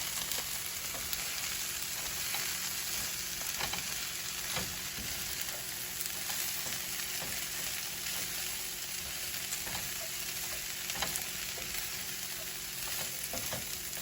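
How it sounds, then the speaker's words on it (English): Steady, close sizzling of jicama and green beans frying in a pan, a continuous even crackle with faint scattered pops and no talking. "so now we're gonna let the jicama cook"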